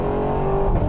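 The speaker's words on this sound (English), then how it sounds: "every time you put your foot down, it just literally fills the cabin with so much exhaust noise" Supercharged 2023 Cadillac Escalade V under hard acceleration, a deep continuous engine and exhaust roar with steady low droning tones, loud and filling the cabin over a short second, no speech.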